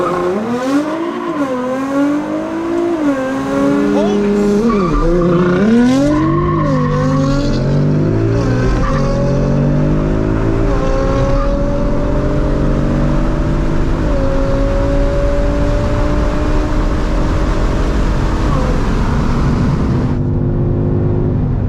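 A 2018 Mustang GT launches hard using launch control, its V8 climbing through revs with tire squeal as it pulls away, loud and close, the engine note rising steadily over about twenty seconds before cutting off.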